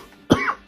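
A single sharp cough bursts out close to the mic, brief and loud with a raspy tail, in an otherwise quiet indoor space.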